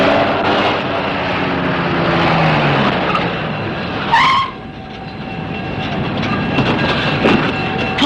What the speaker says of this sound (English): Paul, I think I hear it. It must be our train.